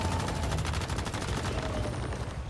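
Rapid automatic gunfire in the video game Once Human rattles as a fast, even burst for about two seconds, then fades into a dull rumble, loud and close.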